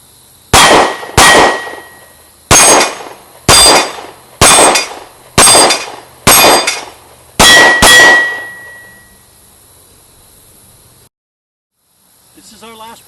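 Taurus PT-111 pistol shots ringing off steel targets, eight sharp reports each followed by a bright metallic clang, spaced about a second apart, loud and close before quiet and a brief faint voice at the end.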